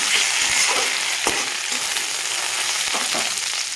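Grated ginger fries lightly in a pan with a steady close sizzle, broken by a few scrapes as it is stirred, with no talking.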